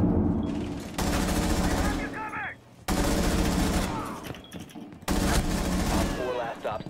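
Loud gunfire bursts in a tactical shooter match, several heavy booming volleys separated by brief gaps, with crackling tails and an in-game voice speaking over the action.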